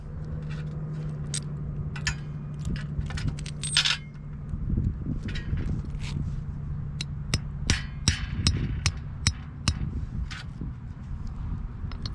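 Metal washers and lock washers are handled during foundation prep for a post and beam pavilion, giving repeated bright metallic clinks and jingles over a steady low hum.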